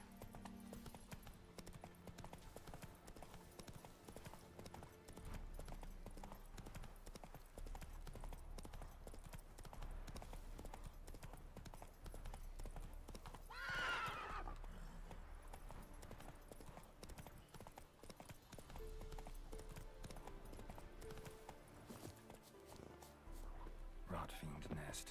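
Roach the horse gallops across open ground in The Witcher 3, a steady rhythmic clip-clop of hooves running close and continuous under ambient game sound, with a brief spoken moment.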